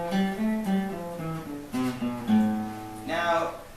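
A minor scale, tied to a Longa Farafaza lesson, played note by note on a melodic instrument, a steady run of clear, moderately quiet sustained tones.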